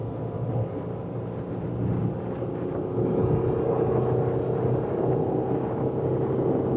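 A 1983 Mercedes-Benz 240D diesel accelerating at near full throttle on a test drive, a steady low engine drone and road rumble heard from inside the car, continuous and moderately loud with no talking.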